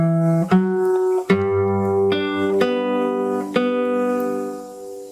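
Acoustic fingerstyle guitar plays a phrase, mixing bass notes with open strings in a handful of close, ringing plucks that overlap and sustain, with no one talking.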